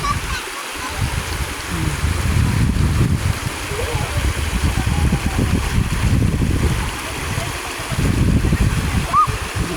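Bunsuran Falls runs low in the dry season, giving a steady wash of splashing, rushing water heard close by. A voice speaks over it at times.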